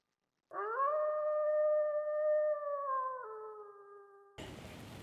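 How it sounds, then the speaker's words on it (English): A single long, wavering animal howl rises and holds steadily before dropping in pitch, followed by a burst of hissing noise. "in the distance an eerie howl could be heard"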